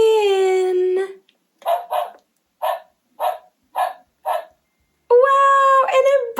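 A toy-like dog sound gives a series of five short, evenly spaced barks, loud and close, framed by a longer howl-like tone before and after, with no talking over it.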